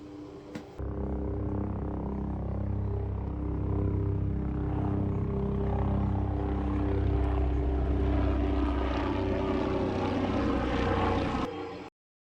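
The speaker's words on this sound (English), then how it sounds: "That chopper got tagged to shit." A helicopter or propeller aircraft flies overhead, its steady droning engine and rotor sound loud and continuous for about eleven seconds before cutting off abruptly.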